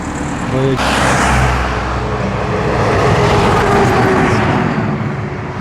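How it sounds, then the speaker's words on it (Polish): Cars rush past at a road junction, a loud continuous roar of tyres and engines filling the scene from close by, with a voice briefly audible underneath. "Krzyżuje się, auta jadą."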